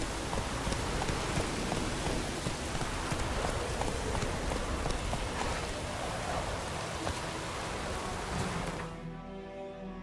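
Heavy rain in The Witcher 3 hisses steadily for several seconds, dense and even, then cuts off abruptly near the end, leaving a faint tonal hum.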